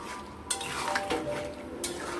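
A spatula stirs mixed vegetables and paneer in a pan, with soft scraping and a low continuous sizzle plus a couple of sharper clinks against the metal.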